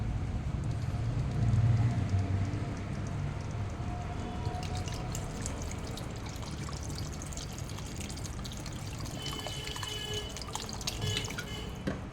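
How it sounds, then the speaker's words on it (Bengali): Water is poured into a pan of curry spices fried until the oil separates, giving a continuous splashing, trickling wash throughout with a brief heavier gush near the start, close and moderately quiet. "এবার আমি জল দিয়ে দেবো।"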